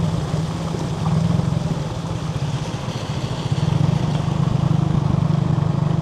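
A motorcycle rides through a flooded street, its engine droning steadily and loudly up close for the whole stretch with a gritty rumble, and no talking over it.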